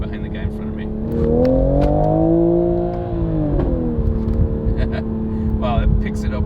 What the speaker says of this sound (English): Here's just all-out acceleration.